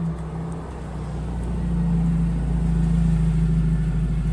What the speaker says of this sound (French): Il y a l'Alpine qui arrive, regardez-moi ça.